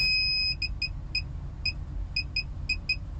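A circuit breaker finder emits short, high-pitched beeps at an irregular pace over a faint low hum, after a steady opening tone.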